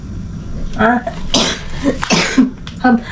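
Several short, harsh coughs break out in separate bursts, close and fairly loud, with no talking.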